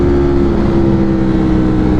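A Ducati motorcycle engine roars loud and close in a steady, sustained drone, with a strong low hum and no pauses.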